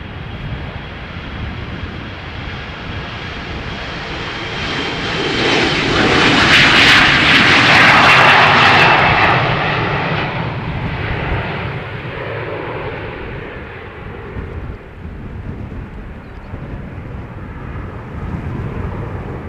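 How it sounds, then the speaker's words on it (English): A TUI Boeing 737 MAX jet airliner's engines roar at the runway threshold at Amsterdam Schiphol, swelling to a loud, broad rumble midway and then easing back into a steady distant drone. "Going to the runway threshold now is a Boeing 737 MAX from TUI."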